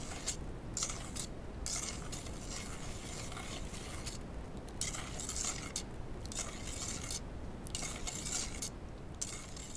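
Vanilla essence mixture for leche flan being stirred in a bowl, heard as soft, repeated scraping and light clinking in a steady back-and-forth rhythm, quiet and close, with no speech.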